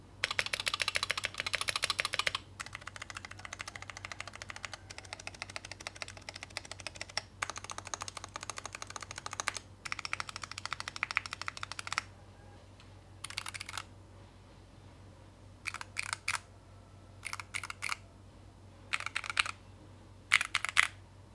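Typing test on a modded Sades Kunai mechanical keyboard with tactile switches: quiet, close bursts of rapid key clacks separated by short pauses, with no voices.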